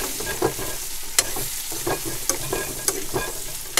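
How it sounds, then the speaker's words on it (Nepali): Large chillies being stirred as they fry in a pan in a Nepali village kitchen, a loud close sizzle with rhythmic spatula scrapes and clicks roughly every half second. "थोरै मात्रै ठुलो खुर्सानी राखेर एकछिन मजाले चलाउनेछु"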